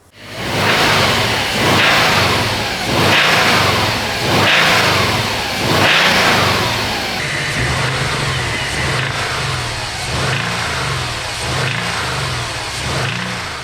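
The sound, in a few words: Subaru WRX engine running with rod knock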